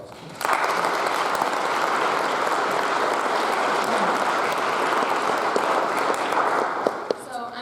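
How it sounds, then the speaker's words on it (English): A church congregation breaks into sustained applause, a broad wash of clapping that starts abruptly, holds steady at moderate loudness and tapers off at the end. "So, big round of applause for you guys."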